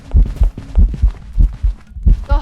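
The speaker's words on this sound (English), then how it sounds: "the heartbeat gives it away. The heartbeat is so loud." A loud ghost heartbeat from the horror video game Phasmophobia, pounding in steady deep double thumps, close and dominant over a low hum.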